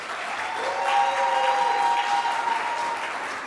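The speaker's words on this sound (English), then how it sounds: "Let's give a big round of applause for the final 4 and all the other teams that entered the competition" An audience at a public sector debate competition grand final claps loudly and steadily for about three seconds. The applause swells to a full peak, then begins to thin, with no voices over it.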